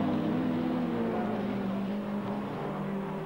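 A 1989 British Touring Car Championship race car limps along slowly on a front puncture, its engine a steady droning hum with a faint rising whine, continuous and fairly close throughout.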